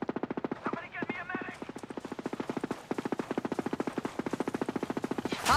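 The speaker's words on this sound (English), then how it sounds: "Hostiles are shooting." Automatic gunfire in a Ghost Recon Breakpoint PvP match: a rapid, steady stream of shots that runs almost unbroken for over five seconds, with a voice briefly heard early on.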